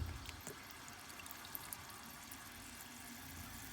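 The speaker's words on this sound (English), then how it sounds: "So what I'm going to do is crack the filling loop. And slowly let some water in." Water trickles and splashes steadily from a boiler drain hose as the boiler slowly fills through a filling loop, a faint, continuous hiss-like flow with no voices.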